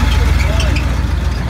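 A Willys 6x6 Jeep powered by a flathead Ford V8 drives along with a steady, loud low rumble, while people talk over it.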